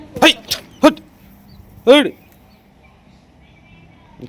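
A small dog lets out several quick, sharp yips, then one longer, whiny bark, followed by quiet.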